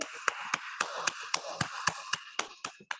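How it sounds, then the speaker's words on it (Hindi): A single person claps for Gyan ji in a steady, evenly spaced rhythm of about a dozen sharp claps, close and fairly loud, with no voices. "एक बार ज्ञान जी के लिए जोरदार ताली होना चाहिए"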